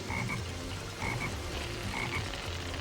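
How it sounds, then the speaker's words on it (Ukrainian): Frog croaking in Sonic Heroes, short paired croaks that repeat roughly once a second over a low game background, clear and close, with no voices. "Black Frog again."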